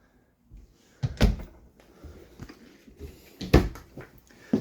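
Cabinet doors in the kitchen of a 2026 Surveyor 202RB travel trailer being opened and shut, several close wooden thumps and knocks spaced irregularly, with soft handling noise between them.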